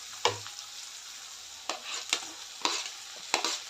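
Salted onion and chopped tomato stir-fried in a pan, a steady sizzle broken by several distinct scrapes of the spatula, close and fairly quiet, with no talking.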